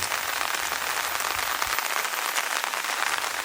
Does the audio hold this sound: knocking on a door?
no